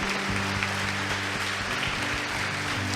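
A church congregation claps together in sustained, dense applause, loud and close, with a steady hum of music underneath.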